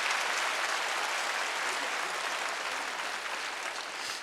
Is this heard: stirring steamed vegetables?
no